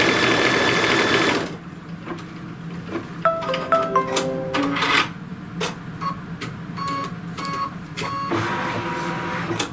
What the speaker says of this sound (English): now it's going to stitch the little tick marks for the next pocket